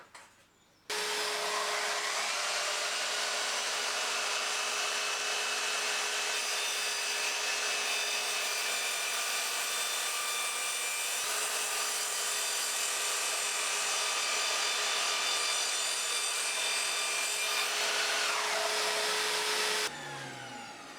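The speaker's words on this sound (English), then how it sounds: "So that is a bevel cut." A sliding mitre saw makes a 45 degree bevel cut through wood, a loud, steady motor whine with the blade rasping through the workpiece for about twenty seconds before spinning down.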